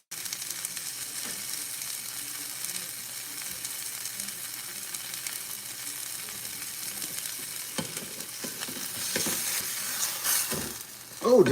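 A Doritoasters sandwich frying in a pan, a continuous close sizzle with crackling pops that grows busier toward the end, with occasional scraping sounds and no talk.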